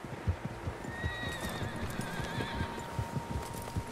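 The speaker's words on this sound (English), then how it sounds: "Horses, quite a few of them." Horses gallop in the video game Red Dead Redemption 2 with rapid, uneven clip-clop hoofbeats, and a whinny rises over the pounding, all fairly close and busy.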